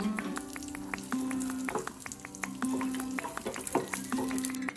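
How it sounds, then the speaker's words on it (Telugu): Raisins frying in the same pan as toasted poha, a soft continuous sizzle with repeated light tapping and scraping of a spoon, close and moderately quiet, no talking. "దీంట్లోనే కిస్మిస్ వేయించుకుందాం."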